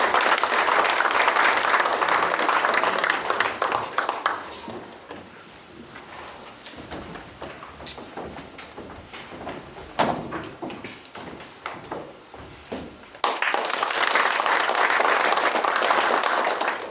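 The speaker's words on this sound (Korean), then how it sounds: "장지복 회장님의 환영사 큰 박수로 청해 듣겠습니다" A hall audience at a Korean industrial-complex ceremony breaks into loud applause to welcome a speech. Dense clapping fades into sparser, scattered claps, and a fresh burst of full applause swells at the end.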